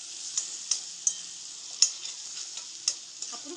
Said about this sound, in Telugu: చక్కగా ఇలా ఆయిల్లో వేసుకుని కొంచెం ఫ్రై చేసుకోండి.